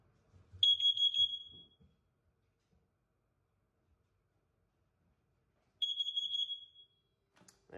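A household carbon monoxide detector sounds two loud, sustained high-pitched beeps several seconds apart, with faint movement noise before the first beep and in the quiet gap.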